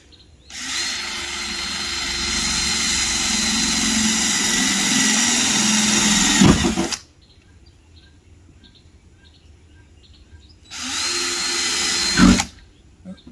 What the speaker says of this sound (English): Let me get me a starter bit where I can drill holes easier to start with.